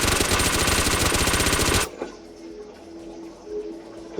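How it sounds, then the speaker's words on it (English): Tommy Gun fired at close range in Anime Battle Arena: a loud, rapid, evenly spaced burst of machine-gun shots lasting nearly two seconds, cutting off abruptly into quieter game ambience with a faint tonal chime. "Tommy Gun, at close range"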